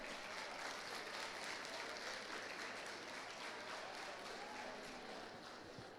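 A church congregation applauds during a sermon, producing a dense, even patter of clapping that sounds faint and distant and continues steadily without pause.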